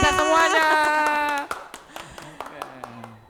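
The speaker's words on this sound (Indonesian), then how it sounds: "Tepuk tangan buat kita semuanya." At a Scout gathering, a chanting voice gives way to a scattered round of group hand clapping, with sharp irregular claps continuing to the end.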